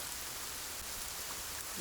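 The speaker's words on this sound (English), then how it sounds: "And then we need some rain or some water." Steady rain hisses on a surface as an even, soft wash of noise that lasts about two seconds with no break, fairly quiet and heard alone.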